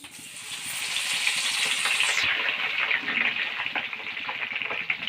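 Curry leaves hit hot oil for a tomato chutney tempering, bursting into a loud crackling sizzle that eases into steadier spitting.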